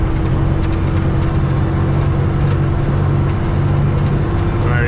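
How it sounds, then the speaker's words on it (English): Steady roadway rumble of a heavy truck climbing a highway on-ramp, a continuous loud engine drone with low tonal hum and passing traffic noise throughout, no voices. "Got a truck coming up"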